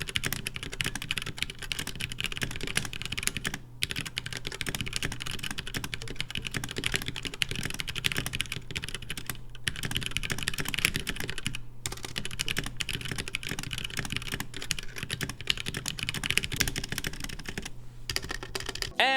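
Steady, continuous typing on a compact 65% mechanical gaming keyboard, dense rapid keystrokes clattering close up with brief pauses, no voices.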